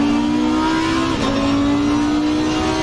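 A race car engine in Assetto Corsa Competizione at Zandvoort, droning loud and steady as it accelerates under throttle, with the pitch dipping briefly midway and then climbing again, with no talk over it.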